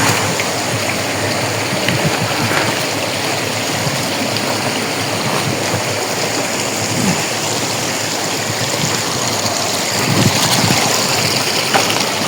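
A rocky river at Dharan rushes steadily over stones, a dense, continuous wash of flowing water that stays close and even for the whole stretch, with no voices.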